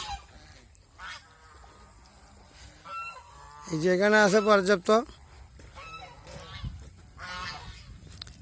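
Ducks honk and quack in a loud burst near a river, a dense run of calls lasting a second or two, with someone talking before and after it over faint outdoor background.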